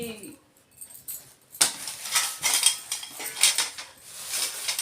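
Newly bought metal kitchen utensils and a strainer for draining fried puris clatter and clink as they are handled, a steady run of bright metallic knocks that grows busier after a quiet start.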